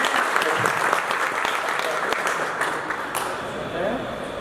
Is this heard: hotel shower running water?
no